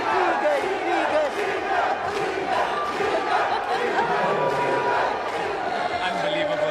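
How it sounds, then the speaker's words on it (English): A large crowd chants a player's name in steady repeated rhythm at a blackball pool national championship final in a casino entertainment venue, a continuous loud wash of voices throughout. "And the crowd cheering in the background. Senzo, Senzo, Senzo, Senzo."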